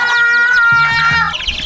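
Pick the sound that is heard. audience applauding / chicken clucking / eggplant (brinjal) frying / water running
chicken clucking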